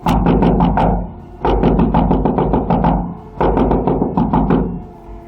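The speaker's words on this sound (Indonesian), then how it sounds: "Namun semakin lama, suara ketukan itu semakin cepat dan keras." Knocking on a house door at night in a rapid series of loud, close raps in three bursts, each burst a quick run of sharp knocks with brief pauses between, no voices present.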